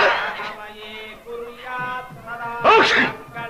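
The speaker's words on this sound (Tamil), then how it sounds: "இது ஜலதோஷ தும்மல்" A person with a cold lets out a sharp sneeze near the end of the clip, close and loud. It is preceded by voiced, strained sounds from the sneezer, in a Tamil comedy film scene.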